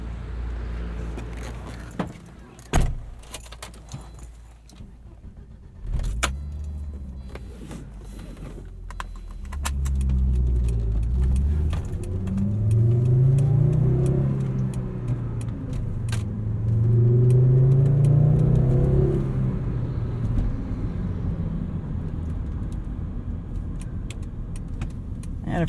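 A manual Volvo 850 R with a tuned engine and raised boost is started and driven, with clicks and clunks from the cabin first, then the engine catches and rumbles steadily, rising in revs as the car pulls away.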